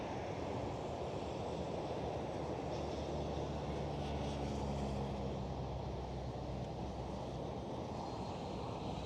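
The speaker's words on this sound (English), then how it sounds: "KLM 737 taxiing by" A KLM Boeing 737 taxiing at Amsterdam Schiphol airport, a steady low engine rumble and whine, distant and unchanging throughout with no voices.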